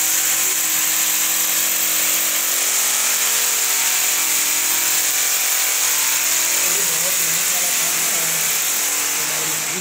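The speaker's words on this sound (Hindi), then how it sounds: "ड्रिलिंग का काम किया जा रहा है।" A power drill runs continuously at a steady, loud, high-pitched whine during building work, with no break for about ten seconds.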